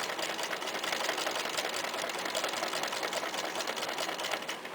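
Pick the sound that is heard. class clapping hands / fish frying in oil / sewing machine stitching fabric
sewing machine stitching fabric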